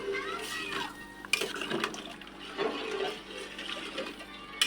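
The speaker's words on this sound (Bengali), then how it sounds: "পরিমাণ মতো পানি দিয়ে দেব" Water being poured into a pot of rice for hilsa pulao, a moderate continuous splashing and gurgling pour with a few brief knocks.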